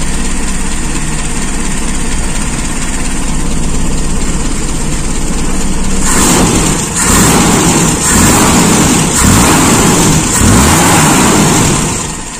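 Engine of a Toyota Kijang Super, running on an enlarged carburetor air bleeder, idles steadily for about six seconds, then revs hard in several repeated bursts, loud and close, with no talk.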